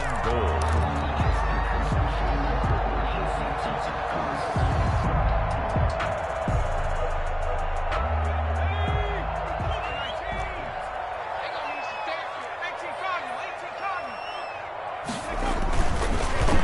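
Stadium crowd in an American football video game on PS4, a steady loud roar of cheering and shouting near the goal line, heard continuously beneath a commentator's voice.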